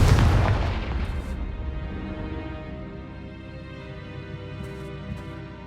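A Confringo fire-blast spell from Hogwarts Legacy bursts with a loud, deep boom at the start, then rumbles and fades into a long low ringing decay.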